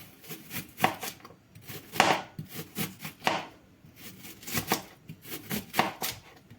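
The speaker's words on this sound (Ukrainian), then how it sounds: "Цибулю я буду нарізати умовним пір'ям. Ось так тоненько." Quick, steady knife strokes thinly slicing onion on a cutting board, close and crisp, roughly two cuts per second with no talking.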